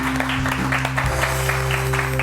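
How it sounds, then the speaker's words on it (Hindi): Studio audience clapping on a Pakistani morning show, broad rhythmic patter sitting over a constant low hum and tonal background, continuous and fairly loud throughout. "पूरी एनर्जी के साथ एक ज़बरदस्त तालियां होनी चाहिए"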